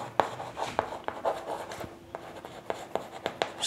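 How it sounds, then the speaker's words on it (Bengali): Handwriting during a class 6 maths lesson, with short scratchy strokes and sharp taps of pen on paper in an irregular rhythm, close and moderately loud. "তাই লিখব মানের"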